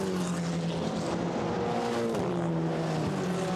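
GT4 race cars pass at Monza during a 2019 European Series race, a loud, continuous engine roar with a steady droning pitch that dips as the leaders go by.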